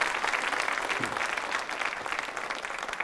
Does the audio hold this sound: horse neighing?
no